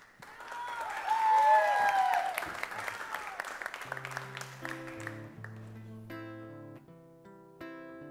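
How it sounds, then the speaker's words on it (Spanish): Audience applause and clapping welcoming a singer-songwriter guest onto a television music show, swelling loud then fading as piano and guitar notes begin underneath. "Le damos la bienvenida con un fuerte aplauso al siguiente invitado de la noche"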